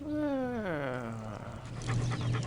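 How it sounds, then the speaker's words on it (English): A dog whimpers in the video game Postal 2, a drawn-out falling whine followed by a few softer yelps, close and clear with no talking. "Did he just kick that dog?"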